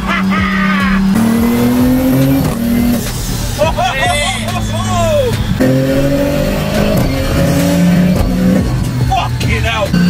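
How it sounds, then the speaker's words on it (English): A 2000 HP Nissan Patrol with a sequential gearbox at Dubai Autodrome, engine revving loud and close with several abrupt upshifts breaking the rising pitch, amid crowd babble and shouting voices. "I love the sound of the fucking sequential."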